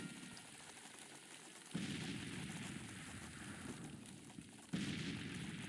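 Artillery and gunfire roar in a Grand Tactician Civil War battle for Nashville, heavy distant booms swelling into a dense rumble with two sharp surges of fire.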